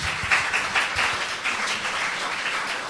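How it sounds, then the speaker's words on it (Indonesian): Congregation clapping in a church service, a moderate, scattered patter of hands with a few sharper claps standing out, fairly even throughout. "Yang mau berikan tepuk tangan."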